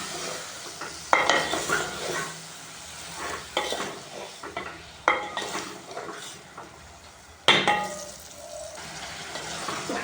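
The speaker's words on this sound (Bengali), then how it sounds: "ভালো করে কষিয়ে নেব।" Garlic paste, salt, chili powder and cumin powder fry together in a pan, with a sizzling hiss broken by loud, close scrapes and knocks of a stirring spoon, and no voices.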